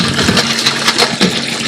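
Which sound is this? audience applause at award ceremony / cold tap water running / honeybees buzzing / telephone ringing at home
cold tap water running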